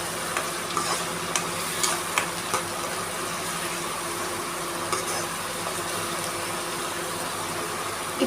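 Cumin, cinnamon and tomato-onion paste frying in hot oil, a steady dense close sizzle with occasional soft stirring clicks, no talking.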